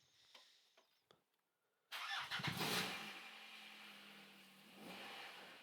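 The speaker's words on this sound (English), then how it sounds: "the engine is now running quite normally with a modified firmware" A Rover MEMS3-managed car engine running modified firmware cranks and catches near 2 seconds after a few faint clicks, briefly revs, then settles into a steady, smooth idle.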